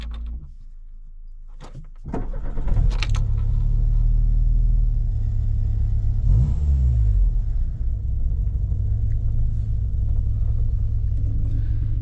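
A car engine cranks and catches, then settles into a steady low idle rumble that continues, loud and close.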